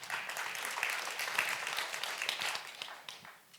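Steady applause from a large audience fills the room, a dense continuous wash of many hands clapping that holds evenly and begins to thin toward the end.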